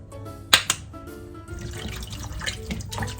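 Tap water trickles and splashes into a kitchen sink as vegetables are rinsed, with a couple of sharp clinks early on followed by a steady, fairly faint running flow.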